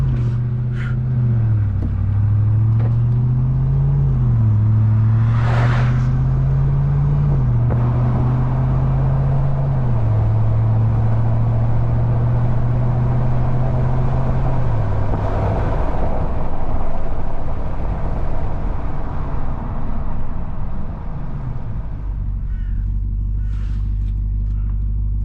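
A 2021 Ram 1500 TRX pickup, a 710 hp truck, roars through a launch-control start as its engine note climbs and shifts through gears. The loud, continuous rumble fills the cab before easing back near the end.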